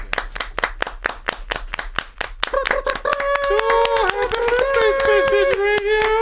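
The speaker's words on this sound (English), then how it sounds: "I'm going to clap too." Sharp, evenly spaced hand claps ring out close by, first alone and then continuing under a voice speaking during a podcast birthday celebration.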